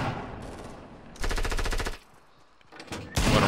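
Fortnite gunfire comes in rapid automatic bursts, one long loud volley in the middle and another starting at the end, with quieter scattered shots and faint background game noise between them.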